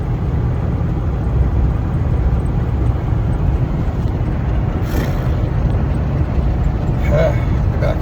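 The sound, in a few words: truck rumbling and vibrating while driving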